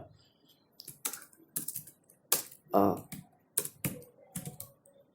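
A sentence being typed on a computer keyboard, with irregular clusters of crisp key clicks and one heavier clack, close and fairly quiet.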